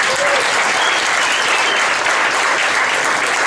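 An audience at a San Francisco book tour event claps in sustained, dense applause that fills the room evenly from start to finish.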